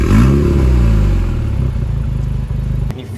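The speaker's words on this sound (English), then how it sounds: "You hear these little pops when you accelerate." A close, loud Alpine A110 GT engine revving up with a throaty rumble and a burst of crackling exhaust pops as it accelerates, then easing off.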